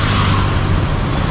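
Steady road traffic in Bonaberi, Douala, a continuous close rumble of car and truck engines with no breaks.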